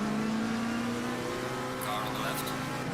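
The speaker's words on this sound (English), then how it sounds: "The grunt from the V8 in the Mercedes." Mercedes V8 race car in Assetto Corsa Competizione revving hard with a steady, throaty engine drone and a rising harmonic, loud and continuous, with a faint voice talking underneath.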